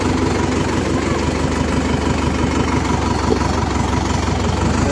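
A Sonalika tractor diesel engine idles close by, a loud, steady low throb with a fast, even knocking pulse that holds unchanged throughout, no talking heard.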